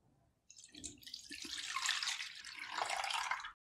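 Milk poured from a height into a metal pot, a steady splashing stream that starts abruptly, swells and holds for a few seconds before cutting off, fairly quiet and close.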